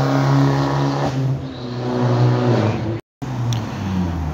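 A Fiat Bravo's engine revs loudly nearby at a gas station, holding a steady droning roar that briefly dips and then picks up again, with no talking.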